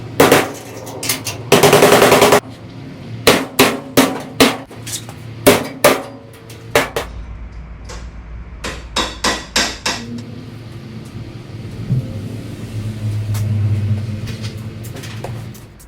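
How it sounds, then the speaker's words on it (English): Sharp metallic hammer blows reshaping a car body panel, ringing close and loud in irregular bursts with a brief buzzing tool burst early, then trailing into a low rumble. "Let's get the hammer, get our shape back into it."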